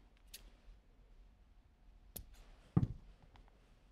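Scissors snip through cotton swabs in a quiet room: a few faint clicks, then a sharper cut with a louder, crunchy snip near the end.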